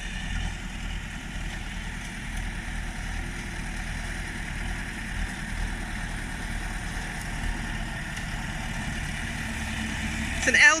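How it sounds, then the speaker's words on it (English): An LTZ tractor pulling a drum mower through a dying lucerne field overgrown with weeds hums steadily at a moderate distance, a low continuous engine drone that swells slightly at the very end. "It's an LTZ tractor"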